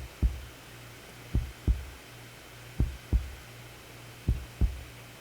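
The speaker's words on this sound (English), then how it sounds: "I can feel my heart pounding against my chest" Heartbeat sound effect: three low, close double thumps in a slow steady lub-dub rhythm, standing alone over a faint hum with no voices.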